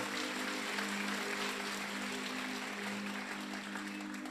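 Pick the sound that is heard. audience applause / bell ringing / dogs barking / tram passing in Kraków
audience applause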